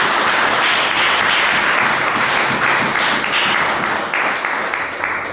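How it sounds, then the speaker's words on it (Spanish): Loud, sustained audience applause during a church service, a thick wash of many hands clapping for several seconds, tapering slightly toward the end with no speech over it. "Denle un fuerte aplauso"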